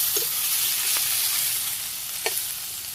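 Onions and green chilies stir-fry with turmeric and other spices, giving a steady bright hiss of frying with two or three faint spatula taps.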